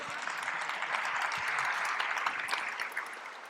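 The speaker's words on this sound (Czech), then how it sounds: "Potlesk" Audience applause fills a hall at a post-concert talk, a dense, steady patter of many hands clapping at moderate volume for about three and a half seconds, with no voices rising above it.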